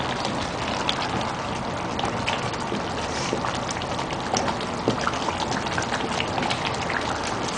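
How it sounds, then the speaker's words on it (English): Chicken curry simmering in a pot after the oil has separated and risen to the top, giving a steady, even bubbling and popping that runs evenly throughout, close and moderately loud, with no talk. "Bubbling as well."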